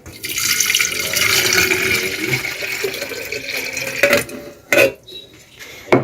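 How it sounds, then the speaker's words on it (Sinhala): Water pours into an electric kettle under repair, a steady broadband splashing stream for about four seconds, then a few louder knocks and clatters as the kettle is handled. "අපි දැන් මේකට වතුර ටිකක් දාලා මේක අපි දැන් චෙක් කරගමු"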